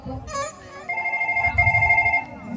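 A telephone rings with a steady electronic tone that repeats in quick pulses for about two seconds, fairly loud and close, with faint background voices underneath.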